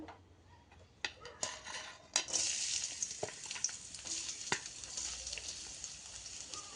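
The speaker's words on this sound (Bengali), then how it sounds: "তেলটি গরম হয়ে আসলে প্রথমে পেঁয়াজ কুচি দিয়ে নেওয়া হলো" Chopped onion goes into hot oil in a kadai for an okra stir-fry: a few sharp utensil clicks, then a sudden burst of loud sizzling that keeps crackling under occasional stirring taps.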